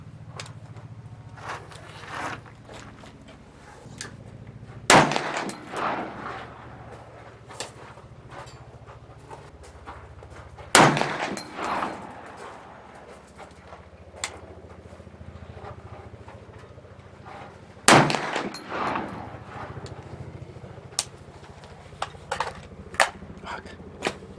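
Three loud, sharp .50 Beowulf rifle shots ring out at an outdoor range, spaced several seconds apart, with quieter handling noises and faint shuffling in between.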